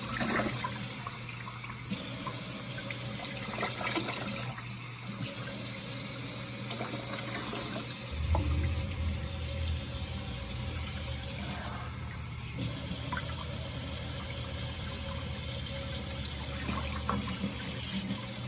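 Tap water runs steadily into a sink while a hedgehog is rinsed of soap, a continuous close splashing flow with a deeper gush partway through.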